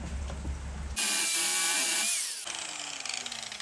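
An angle grinder cuts into a wooden climbing-wall hold, giving one loud, harsh, abrasive burst of grinding that lasts about a second and a half before it drops back to quieter shop noise.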